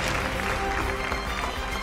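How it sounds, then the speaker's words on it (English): Audience at a magic show applauding after a card trick, a dense, continuous roar of many hands clapping together, loud and steady with no individual claps standing out. "Let's give them all a big round of applause"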